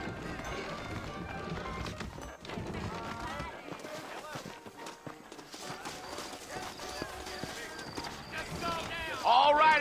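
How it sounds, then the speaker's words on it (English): Saddled horses clip-clopping and running in the Red Dead Redemption video game, rhythmic hooves steady under a busy mix of music, talk and other game sounds throughout. "I got the horses saddled up and ready out front."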